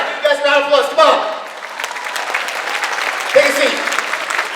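Audience applause at a sales-mindset seminar, a live crowd clapping in a dense wash after shouted voices open the moment, loud and close with a voice cutting in briefly near the end.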